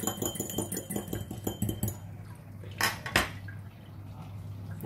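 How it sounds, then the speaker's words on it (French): A utensil clinks rhythmically against a dish while whisking an egg yolk, with fast regular taps for about two seconds, then a couple of louder knocks over a quiet background hum. "On va mélanger un peu."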